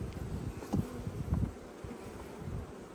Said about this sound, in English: The bees are in a real build mode.